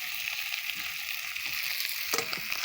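Boiled potatoes and fried bitter gourd sizzle in a spice mix in a pan, giving a steady, close frying hiss with faint stirring scrapes and no talk.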